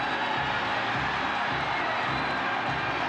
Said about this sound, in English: This tremendous crowd is going bananas here in the Garden